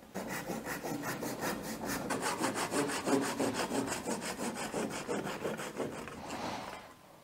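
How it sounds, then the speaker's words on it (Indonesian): Hand-sawing through the last few millimetres of uncut wood left by a brushless cordless circular saw, steady rhythmic rasping strokes at close range, ending abruptly as the cut finishes. "Coba kita gergaji ya sisanya."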